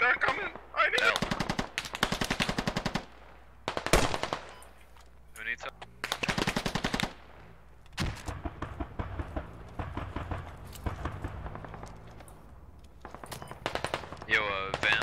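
Machine gun fire in the video game Squad rattles out in several loud rapid bursts with gaps between them, close and sharp, and some voices come through between the volleys.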